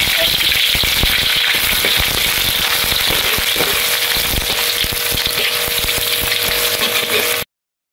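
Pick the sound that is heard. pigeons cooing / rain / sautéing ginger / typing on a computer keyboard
sautéing ginger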